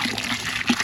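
Water gushes briefly as it is poured into a plaster mix for a dinosaur footprint cast at an outdoor park, a short close splashing pour with no talking.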